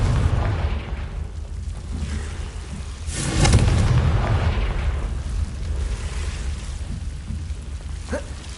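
A Confringo fire spell explodes in Hogwarts Legacy, amid a constant roaring wash of game noise that swells into a louder burst partway through, followed by a brief sharp flicker near the end.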